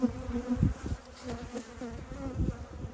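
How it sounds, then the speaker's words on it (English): A steady drone of honey bees hums close by at a hive in October, with a low buzzing tone running throughout and a few louder thumps and rustles. "Look at all those bees."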